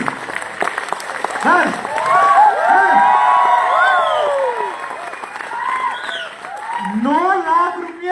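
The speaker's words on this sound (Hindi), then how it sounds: "एक बार जोरदार तालियां होनी चाहिए गाइस" Loud applause at a seminar at ITO, Delhi, mixed with whoops, shouts and cheering voices that rise and fall before swelling again near the end; one voice briefly speaks.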